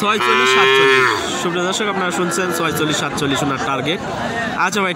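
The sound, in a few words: cow mooing at a cattle market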